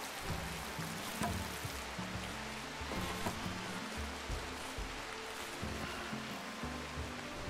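Foggy rain weather in the video game RimWorld gives a soft, steady hiss of rainfall, with low tonal game music notes moving underneath throughout.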